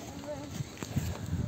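A horse walks up on a dirt path, its hooves clopping a few times quietly, while a person talks over the steps.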